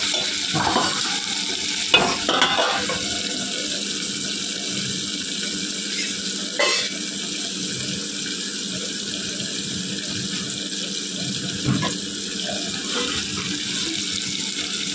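Chopped tomato and onion fry in a pan with a continuous bright sizzling hiss that holds steady for fifteen seconds, broken only by a few brief clinks and scrapes.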